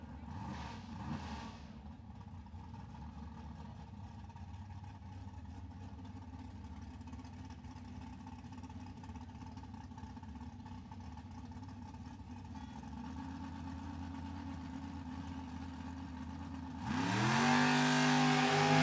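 An American dragster engine idles steadily at a drag strip starting line, then bursts into a loud rev near the end.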